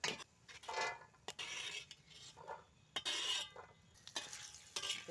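Whole spices, including cinnamon, are roasted dry in a pan in a home kitchen. A spoon scrapes and stirs in uneven bursts, with light rattling and faint crackle between the strokes, heard close up and fairly quiet.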